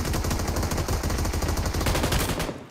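Rapid automatic gunfire crackles in the PUBG Mobile video game, a dense, continuous burst of shots at close range that cuts off abruptly near the end, with no talk.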